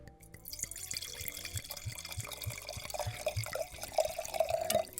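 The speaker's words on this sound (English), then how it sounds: "So can I pour this for you?" Red Alicante wine poured from a bottle into a glass, heard close up as a run of trickling, dripping liquid sounds with small glugs that grow fuller toward the end, with no talking over it.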